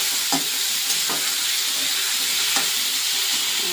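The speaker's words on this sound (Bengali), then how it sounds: "তো এই যে টমেটো, কাঁচা লঙ্কাটা দিয়ে দিলাম পেঁয়াজের উপরে" Tomato and green chilli hitting softened onions in a pan at home, a steady close broadband sizzle and fry with occasional stirring scrapes, no talking.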